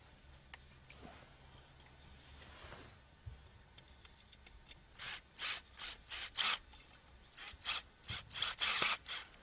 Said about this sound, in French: je mets mes vis sans serrer à fond.